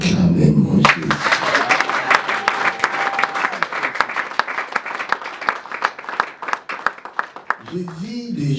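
Congregation in a church at a New Year's Eve night service applauding continuously, a dense wash of many hands clapping close and loud, with shouted voices over it and singing at the end.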